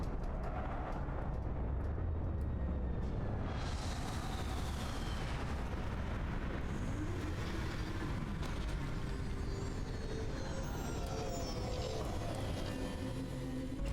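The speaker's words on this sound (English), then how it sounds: "Landing struts primed. Retros firing." Spaceship retro thrusters firing during a landing in the video game Starfield, a sustained roaring, rumbling blast with crackling bursts, loud and continuous throughout.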